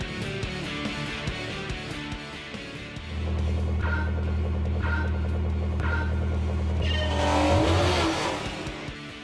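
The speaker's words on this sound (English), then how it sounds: "Lifting the throttle pitches the car's weight forward and helps the turn." Racing car engine from the Gran Turismo video game, droning steadily then rising in pitch and revving harder as the car is pushed, with repeated tire squeals during turns, loud and close with no talk.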